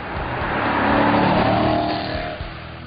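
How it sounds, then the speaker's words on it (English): A 2009 Dodge Challenger SRT8 with a 6.1-liter V8 bellows loudly from its exhaust, a deep, close roar that swells and then tapers off as it accelerates, with no talk over it. "unmistakable big V8 bellow from the tailpipes"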